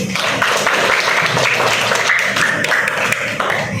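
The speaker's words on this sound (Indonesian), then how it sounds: "Oke, tepuk tangan dulu" A class of tenth-grade students bursts into loud, dense applause, steady rapid clapping from many hands filling the room without a break.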